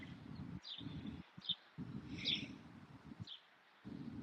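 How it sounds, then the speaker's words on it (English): A bird tweets outdoors in short, high chirps, a few separate calls over a patchy background of low rumbling noise that keeps cutting in and out. "can you guys hear that bird tweeting?"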